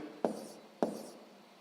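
A pen writes a calculation step on paper, two short scratchy strokes about half a second apart, faint and close, with no talking.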